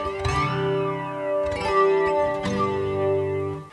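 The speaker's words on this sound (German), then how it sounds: "Dann gibt es den Flanger, das ist auch nochmal ein anderer Sound für die Gitarre" An electric guitar runs through a flanger pedal, strummed chords ringing out with a sweeping, whooshing comb-filter shimmer over a few seconds, with no voice.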